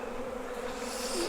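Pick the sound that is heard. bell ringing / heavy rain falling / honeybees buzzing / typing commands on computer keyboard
honeybees buzzing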